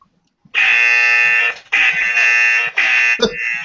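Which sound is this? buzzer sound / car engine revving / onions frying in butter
buzzer sound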